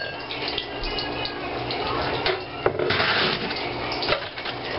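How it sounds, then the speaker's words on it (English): Water runs and splashes steadily into a pan, a continuous close-up gush with a few clinks and bumps along the way. "put a couple of cups of water"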